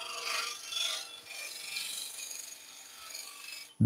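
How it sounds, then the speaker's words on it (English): A parting tool scrapes a turned wooden pumpkin box on a lathe, giving a steady, close, raspy rubbing that swells and eases in waves, then ends with a sudden knock. "I'm using the side scrape for my parting tool to give myself a little bit more room."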